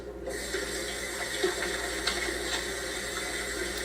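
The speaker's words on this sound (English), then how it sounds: "And he's washing his hands with water." Hands are washed under a running tap, a steady close stream of water splashing continuously into a sink with slight irregular splatters and no talking.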